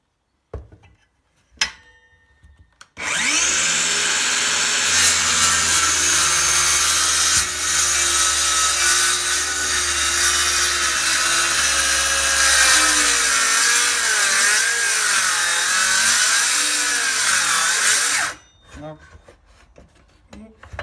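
A DeWalt DCS570 cordless circular saw, running on a fully charged battery, cuts across the grain of wood, a loud sustained whining rip of about fifteen seconds with pitch dipping as the blade starts to bind, framed by brief clicks and quiet before and after.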